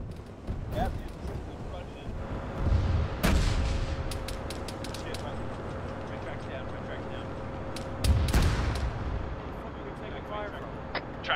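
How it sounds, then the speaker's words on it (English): Incoming gunfire and heavy impacts striking a tank in a video game, sharp blasts at about three and eight seconds over a continuous low rumble of engine and battle noise. "I'm taking fire, I can't see where."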